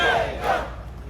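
An outdoor political rally crowd shouts the candidate's name, Lee Jae-myung, in a brief loud collective chant that swells and then fades, with a second surge partway through.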